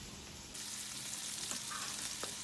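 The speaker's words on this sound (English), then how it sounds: "Let's give it a good stir" Ladle stirring cauliflower soup in a cooking pot over a lit stove, a soft continuous sizzle and swish with a couple of faint scraping clinks near the end, no voices.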